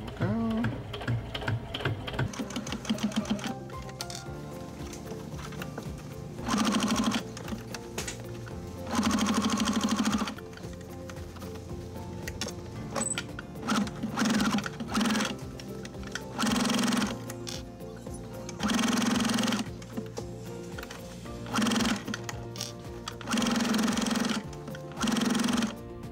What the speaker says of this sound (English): I'm just going to stitch it on the inside and go backwards and gradually move it as I go